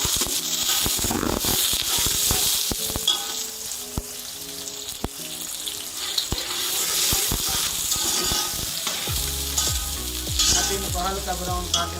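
Onions frying in hot oil for dal chicken pulao give a loud, steady sizzle and hiss, broken by intermittent scraping and stirring clatters close by.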